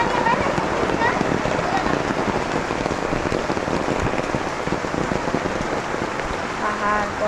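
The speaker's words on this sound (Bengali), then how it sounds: "প্রচুর পরিমাণে বৃষ্টি।" Heavy rain pouring down, a dense steady roar of drops striking surfaces, loud and unbroken throughout.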